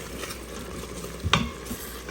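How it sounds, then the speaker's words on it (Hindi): Okra sautés in an Instant Pot, a soft steady sizzle with a quick stirring scrape partway through, close and fairly quiet. "ये सॉटे का बटन दबाया और अब इस पर सॉटे करेंगे हम"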